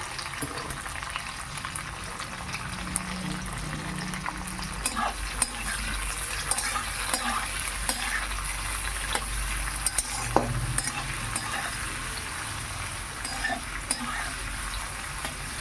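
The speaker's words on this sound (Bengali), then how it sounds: "এবার দিয়ে দিচ্ছি ক্যাপসিকাম এগুলো আমি এবার খুব ভালো করে ভেজে নেবো" Capsicum strips, added along with egg, frying in a pan and stirred repeatedly, giving a loud, constant sizzle broken by frequent scraping and clinking of a utensil against the pan.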